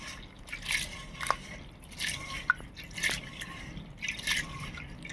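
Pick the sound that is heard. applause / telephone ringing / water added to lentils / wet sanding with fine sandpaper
water added to lentils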